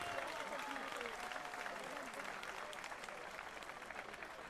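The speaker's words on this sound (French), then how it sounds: "Et on l'applaudit s'il vous plaît, Lopez." Boxing audience at a women's amateur boxing event in Marseille applauds a fighter, a steady, fairly faint patter of clapping filling the room with a voice over it.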